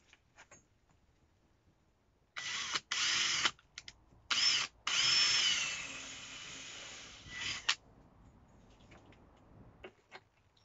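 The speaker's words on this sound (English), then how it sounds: "I will just drill a pilot hole and screw them in." A power drill whirs in several short bursts, then one longer sustained run, close by, with quiet pauses between, drilling pilot holes for hanging basket supports in a polytunnel.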